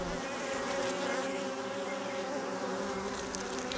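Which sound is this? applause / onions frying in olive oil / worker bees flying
worker bees flying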